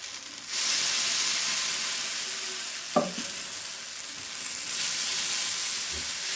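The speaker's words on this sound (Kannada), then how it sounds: "ನಾನಿಲ್ಲಿ ದೋಸೆ ತವೆಗೇ ಎಣ್ಣೆ ಹಾಕಿ ಅನಂತರ ಹಿಟ್ಟು ಹಾಕ್ತಾಯಿದ್ದೀನಿ" Dosa batter for an avalakki cucumber dosa hits an oiled griddle and sizzles steadily, a loud, close hiss that swells and continues for several seconds without talk.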